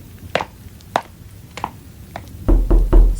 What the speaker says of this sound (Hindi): वो दरवाजे पर दस्तक हो रही है।